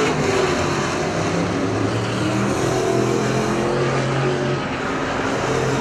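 Super stock race cars roar past on the Perris Auto Speedway oval during a main event, a steady loud engine drone filling the whole stretch with no break.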